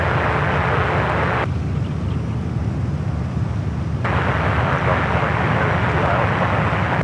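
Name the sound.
United heavy airliner taking off, SFO runway 19 right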